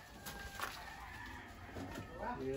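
Chickens on a Philippine farm with a cock house give scattered clucks and short calls, faint and somewhat distant, with a brief crow-like note near the end.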